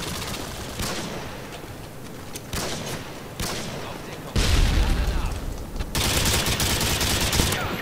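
Call of Duty: Modern Warfare 2 team deathmatch gunfire, including Intervention sniper rifle shots, with sharp shots and bursts over a constant noisy background, growing louder and denser toward the end.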